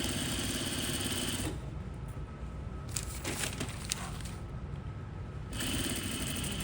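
A sewing machine stitches over boning, a dense steady buzz that eases mid-clip then returns at full strength, heard close and alone.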